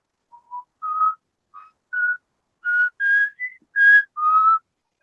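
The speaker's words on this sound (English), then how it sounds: "the more you hear this whistling tune, sort of muffled, but echoing down this hallway" A whistled tune of about ten short clear notes with gaps between them, a single melodic whistle heard alone, fairly clean rather than muffled, in a prison hallway setting.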